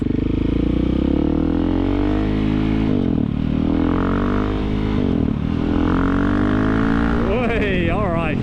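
KTM 690 dual-sport motorcycle accelerating under a rider, its single-cylinder engine droning loud and close with rising pitch through several gear changes, with a brief revving flutter near the end.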